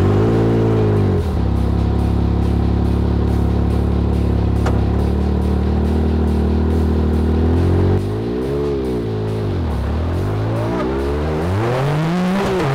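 A UTV engine drones steadily at idle-like pitch, then revs up and down in rising and falling sweeps as it pulls away, loud and close with no talk over it.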